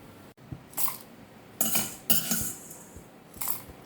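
Several metallic clinks and scrapes of a spoon transferring fried urad dal into a steel mixer jar, coming in short separate bursts with quiet gaps between them.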